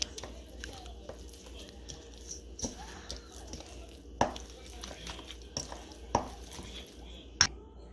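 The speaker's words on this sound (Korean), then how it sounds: "네, 섞어주겠습니다" Spicy braised pork ribs being mixed with gochujang, giving soft stirring and sloshing with a few sharp clinks of utensil against the bowl, close by and fairly quiet.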